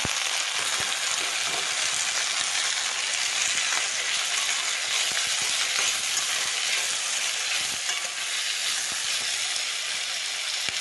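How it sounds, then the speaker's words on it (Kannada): Tomato and onion fry in a pan for chutney with a loud, continuous sizzle and hiss that stays steady throughout, with faint stirring scrapes. "ಟೊಮೆಟೊ ಹಾಕ್ತಾಗೇ ಉಪ್ಪು ಸೇರಿಸ್ಕೊಬೋಣ ಬೇಗ ಟೊಮೆಟೊನು ಫ್ರೈ ಆಗುತ್ತೆ"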